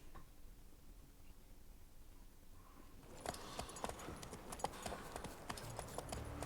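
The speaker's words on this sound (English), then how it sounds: "That's a long horse ride." Quiet at first, then horse hooves clip-clop in a steady trotting rhythm in The Witcher 3, close and fairly faint.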